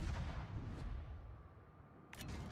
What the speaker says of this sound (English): I thought he would slide more into my airstrike